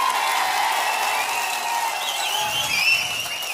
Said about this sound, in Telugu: ఆశీస్సులు ఇస్తామని గట్టిగా చప్పట్లు కొట్టి మీరంతా కూడా ఇచ్చేయాలి